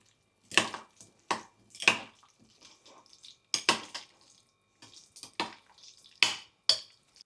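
Spoon striking and scraping a bowl while minced garlic, olive oil, salt and black pepper are mixed for guacamole: sharp, separate clinks in an uneven rhythm, close and clear, with quiet pauses between them.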